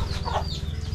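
A chicken clucks close by at a family home, giving a quick, steady run of short clucks throughout the brief moment with no one talking.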